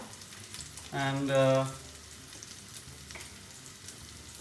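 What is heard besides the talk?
plant-based meat searing in a pan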